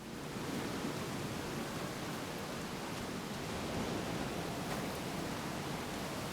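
Rainfall in the video game Scars Above, a constant broadband hiss of heavy downpour that stays even and unbroken throughout, filling the scene with no other distinct sounds.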